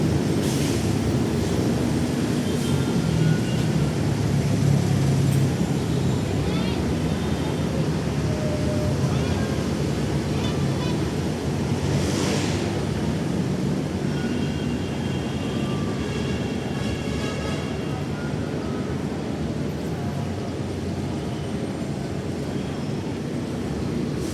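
An LRT light rail train rumbles past with a loud, steady roar and metallic wheel whine, sustained throughout with faint squeals rising above the din.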